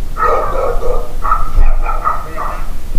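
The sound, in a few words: Chow Chow dog barking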